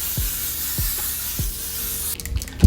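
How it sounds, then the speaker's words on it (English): A steady fine mist of makeup setting spray hisses from a spray bottle, with a few soft clicks of the pump and a brief rustle at the end. "I'm just gonna cover it like this and just spray."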